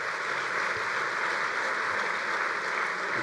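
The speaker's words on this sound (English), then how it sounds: "Please give them a big round of applause." Steady audience applause fills a convention hall at the annual meeting of a bowling congress, a dense, even wash of many hands clapping at once that carries unbroken from start to finish.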